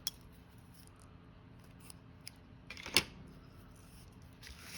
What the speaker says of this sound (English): And I'm going to cut the end.